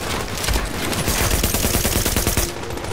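Rapid automatic gunfire from computer-controlled combatants in The Division, a dense, continuous stream of close shots for about two and a half seconds, then cutting off abruptly.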